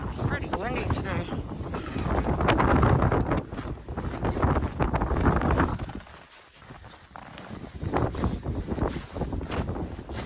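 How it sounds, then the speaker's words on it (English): Strong wind from a winter blizzard roars across the microphone in heavy, buffeting gusts that ease briefly before surging again, with voices talking faintly underneath. "It's pretty windy today."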